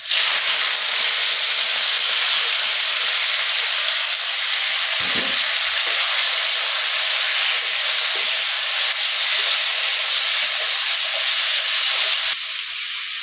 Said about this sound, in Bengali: এখন আমি মাশরুমটা দিয়ে দেবো